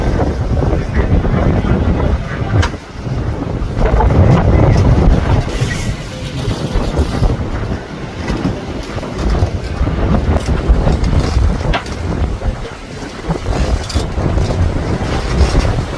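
Strong storm wind at sea roars and buffets around a small company boat, a constant heavy rushing with gusting swells and occasional thumps from the vessel.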